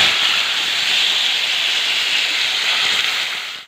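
Onion hitting hot oil in a home kitchen gives a loud, steady, close sizzling hiss for nearly four seconds before cutting off abruptly.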